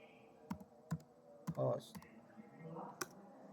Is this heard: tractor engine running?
no